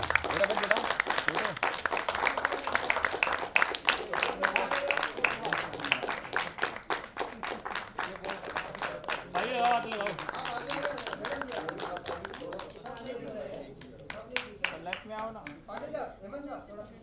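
At a film trailer and music launch, an audience gives a round of sharp, fairly sparse clapping while people talk over it. The applause thins out and fades toward the end.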